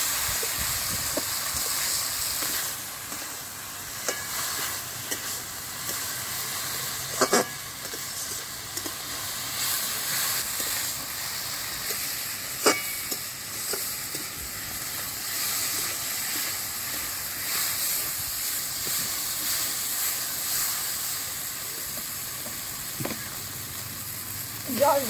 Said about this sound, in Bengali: মশলাগুলো ভাজা হয়ে গেছে, এবারে ভেজে রাখা আলু এবং মাছ, চিংড়ি মাছগুলো ঢেলে দিলাম, দিয়ে একসঙ্গে ভালো করে কষিয়ে নেব।